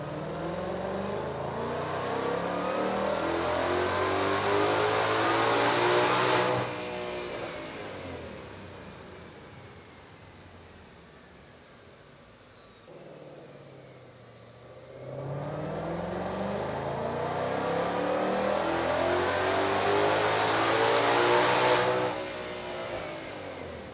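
A stock Ford Mustang Shelby GT500 engine revs hard on a chassis dyno in two long, loud pulls, each climbing steadily before cutting off, with a quieter idling lull between them and no talk.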